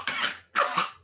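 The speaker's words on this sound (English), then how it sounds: "He just starts What the- coughing blood at you." Two harsh, close coughs in quick succession, loud and alone, with no talking.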